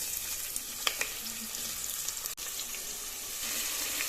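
Thinly sliced onions hitting hot oil for an omelette gravy give a soft steady sizzle with a few sharp clinks and a brief clatter midway, fairly quiet and without talk.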